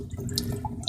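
Tap water runs steadily into a sink while a sharpening setup of Japanese natural stones and diamond plates waits nearby, a soft continuous close trickle with faint drips and no speech.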